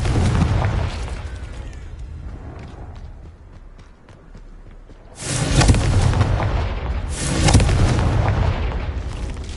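Booming fire-spell blasts from Hogwarts Legacy, two heavy broadband bursts a few seconds apart that ring out over a rumbling game soundscape, loud and close.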